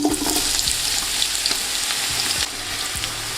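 Onions hitting hot oil in a pan, a loud continuous close sizzle with sharp crackles and a few clinks, the hiss easing slightly toward the end.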